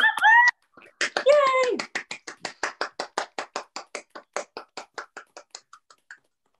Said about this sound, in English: Okay, so we'll do our clap.